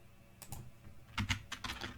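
Keys clack on a computer keyboard while entering a spreadsheet formula, a few soft, quiet taps in a short, uneven burst close by.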